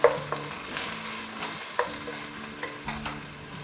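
Ginger and garlic sautéing over medium heat in a pan, a soft close sizzle under repeated scrapes and clinks of a spoon stirring, with a few sharper knocks against the metal.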